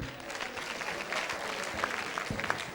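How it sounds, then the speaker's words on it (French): A studio audience at a televised academy contest quarter-final applauds steadily, a soft wash of many hands clapping at moderate distance, even and sustained with a few sharper individual claps standing out. "Applaudissements pour lui."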